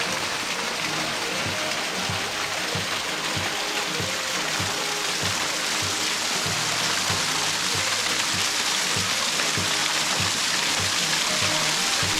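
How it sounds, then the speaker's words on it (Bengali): Small waterfall along the Khoiyachora trail in Sitakunda, a steady broadband wash of falling water, close and continuous, with a low rhythmic thumping underneath and no voices. "ওই যে সামনে একটা ছোট ঝর্ণা দেখতে পাচ্ছি, চলুন একটু ঝর্ণা দেখি"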